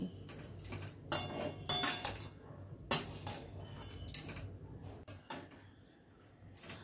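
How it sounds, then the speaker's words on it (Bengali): Metal spoon scraping and clanking against a pan as fried soy chunks are stirred in, with several sharp louder knocks early on, then softer scraping and shuffling, close by and without talk. "এবার ভেজে রাখা সোয়াবিনগুলো দিয়ে দিলাম। দিয়ে সব কিছু আবারও ভালো করে মিশিয়ে নিচ্ছি।"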